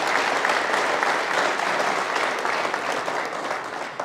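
Sustained audience applause in a motorsport talk-show hall, greeting an Austrian Junior Cup racing champion; dense, steady clapping from a crowd at moderate distance, continuous throughout and tapering slightly toward the end, with no talking over it.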